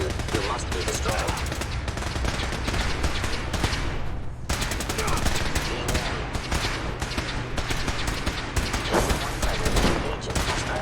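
Sustained automatic gunfire in Fallout 4 during a fight against Institute synths, loud and continuous with dense rapid bursts that briefly drop out midway, mixed with voices, robotic voices and other game sounds.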